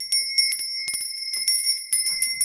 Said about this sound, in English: I'm going to be ringing this bell to clear the space and the air